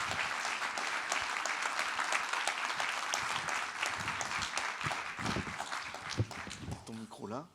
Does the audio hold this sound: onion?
no